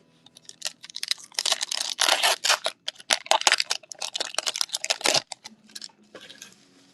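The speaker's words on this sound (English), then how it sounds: "So we're going to shuffle the packs a little bit." Trading card packs from a 24/25 SP Authentic hockey case are shuffled by hand, giving close, continuous crinkly foil rustling and flapping with quick irregular bursts, no talking.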